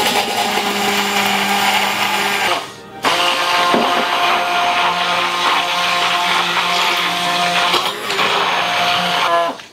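Blender whipping homemade mayonnaise from vegetable oil, a loud whirring motor that dips briefly twice and restarts, running steadily close by.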